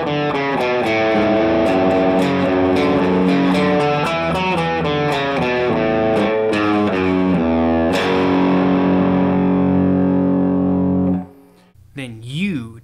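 Distorted electric guitar played without muting, loud overlapping notes ringing into each other in a fast run, then a sustained ringing wash that cuts off into a brief wavering tone.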